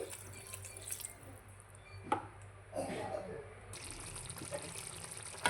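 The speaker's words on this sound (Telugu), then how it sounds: "ఇప్పుడు వాటర్ అయితే వేసుకోవాలండి" Water is added to a simmering drumstick masala curry in a canteen-style pan, giving soft close trickling and dribbling with a few light knocks, fairly quiet and without speech.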